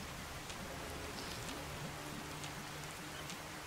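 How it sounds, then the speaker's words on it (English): Steady rainfall in the game Fallout: New Vegas hisses faintly and continuously, with soft patters of drops hitting surfaces and no voices or other sounds over it. "The rain scared the shit out of me."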